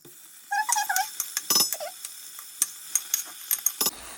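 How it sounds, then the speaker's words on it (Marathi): Mashed sweet potato sautéed in ghee with dry fruits for a sweet potato shira, with a spatula scraping and knocking against the pan, a few ringing metallic clinks, and a faint sizzle between the strokes. "रताळं व्यवस्थित असं तुपामध्ये परतून घ्यायचं आहे"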